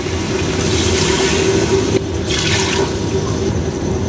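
Water poured into a pressure cooker pot of mutton with bottle gourd, a loud steady rushing pour lasting the full few seconds with a brief break midway, no talking.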